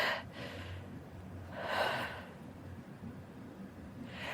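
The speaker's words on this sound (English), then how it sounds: "Take a couple deep breaths." Deep breaths taken during a workout break between push-up sets, with a few slow, audible inhales and exhales close to the microphone and no talking.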